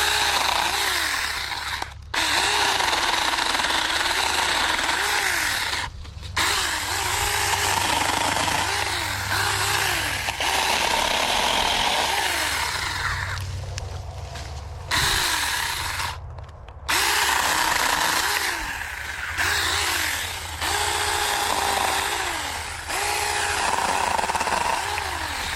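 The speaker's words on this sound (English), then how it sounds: "While I'm out here with this saw, I might as well clean up these branches" A Saker mini chainsaw cuts through hickory tree branches outdoors, its high motor whine rising and bogging in repeated bursts with brief pauses between cuts, loud and close throughout.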